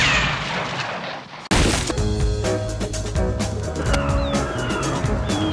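A dog barks sharply after a sudden loud crack, with barks continuing amid noisy outdoor background sound.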